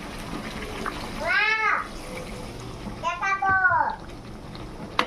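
Water is poured into a pan of frying meat and potatoes, making a steady gushing, splashing wash throughout, while a voice speaks over it twice.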